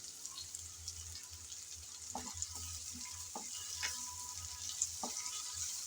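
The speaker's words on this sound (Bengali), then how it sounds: "লবণ দিয়ে আবারও নেড়ে চেড়ে একটু পেঁয়াজ ভেজে নিচ্ছি।" Onions fry with salt in a pan, giving a soft continuous sizzle while a spatula stirs and taps a few times at irregular intervals, close and fairly quiet, with no talking.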